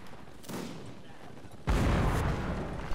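Cannon and musket fire in a Mount & Blade: Napoleonic Wars battle, a softer volley followed by a loud, sustained burst of booming fire that carries on to the end.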